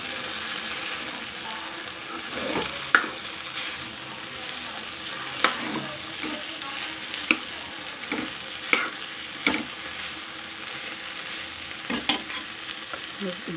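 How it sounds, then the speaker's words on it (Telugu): Ground coriander and cumin, with chili powder, fry in a pan under a steady close sizzle, broken every few seconds by the scrape and knock of stirring; no talk. "వేయించేసి కలుపుకోవాలి."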